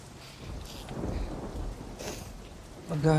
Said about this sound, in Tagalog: Malakas ho ang bagyo sa labas.